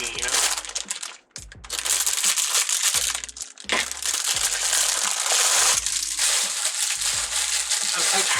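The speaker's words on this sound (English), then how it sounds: "I'm so tired of these bag noises" Plastic bags holding deco mesh tubing for a Halloween wreath crinkle and crunch up close, in repeated bursts with short pauses between them.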